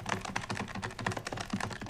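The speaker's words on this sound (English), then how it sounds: "What are you typing in?" Rapid, steady typing on a computer keyboard in a movie scene, dense close keystrokes clattering continuously for about two seconds with no voices over them.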